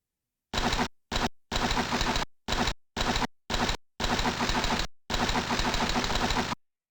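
In the Carmen Sandiego: Enhanced Edition video game, a motorcycle engine runs in a string of loud, clipped bursts broken by short silent gaps, with no talk over it.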